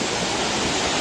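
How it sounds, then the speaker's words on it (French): Rushing water from the Farino cascade roars as a dense, even wash of close waterfall noise with no voices. "Arrivé, cascade de Farino."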